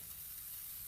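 A steady hiss of cooking spray onto the bottom of a spatula, continuous and close, lasting under a second with no talking.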